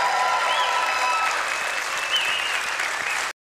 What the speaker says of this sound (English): This is where the applause usually comes in.